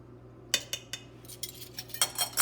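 Croissant dough is mixed with added flour in a bowl, giving a series of light clinks and scrapes from a utensil against the bowl. The sounds come irregularly, quiet and close, over faint background hum with no talk.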